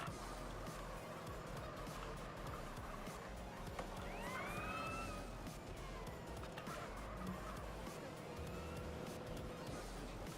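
A police siren wails in GTA San Andreas Definitive Edition. Rising and falling tones sweep through the middle of the clip over a dense bed of game noise, and the siren is moderately loud rather than close.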